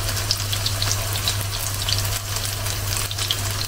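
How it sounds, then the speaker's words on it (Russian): Fritters of grated vegetables bound with three eggs and flour, seasoned with parsley, pepper and salt, fry in a pan with a steady, close, continuous sizzle and crackle and no talking, over a low constant hum. "я уже замешала и теперь жарю"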